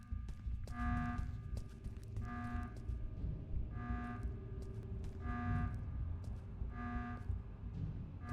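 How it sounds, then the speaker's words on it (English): In the video game Go Home Annie, a repeating electronic alarm tone sounds in regular bursts roughly every one and a half seconds, echoing through hallways over a low rumbling background for over eight seconds. "The sound of that alarm echoing through these hallways."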